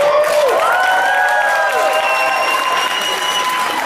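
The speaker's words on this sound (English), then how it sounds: "Give him a round of applause." Convention panel audience at a Power Rangers retrospective clapping and cheering for a guest, with sustained voices and whistle-like cheers riding over steady applause.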